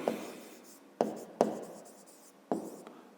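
A pen or pencil writes a math expression by hand on paper in a fifth-grade math lesson. Soft scratching strokes are punctuated by several sharp taps as the point meets the page, close and quiet, with no talk.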